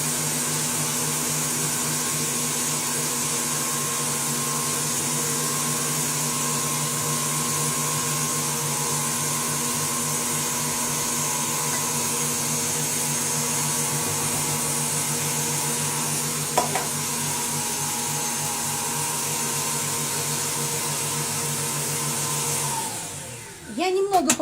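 A powerful electric mixer whips a half batch of marshmallow mass as hot syrup is poured in, a loud, steady motor whine with a constant hum that runs unbroken and then winds down and stops near the end.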